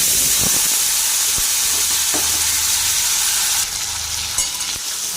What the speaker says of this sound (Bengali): আলুটা নড়িয়ে নেব